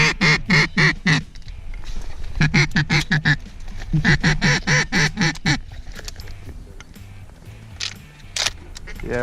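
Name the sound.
ducks quacking during a duck hunt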